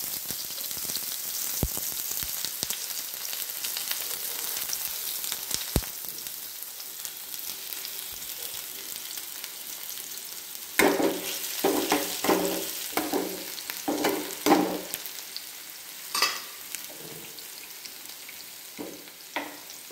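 Chopped onion frying in a hot pan for bitter gourd bhaji, a steady soft sizzle with clusters of louder crackling and stirring scrapes in the second half, close and without talk.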